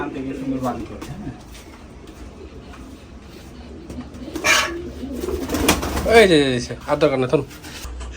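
Rajshahi Giribaz pigeons coo in a few short bursts, close and moderately loud, with people talking throughout.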